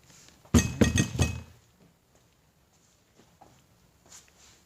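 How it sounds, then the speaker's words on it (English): Metal tractor PTO bearing parts from a John Deere 4030 knock and clink against a cleaning bucket, a quick cluster of three or four sharp hits, followed by quiet and a faint later clink. "I'm going to dip this one more time, and then I'll go to the clean bucket."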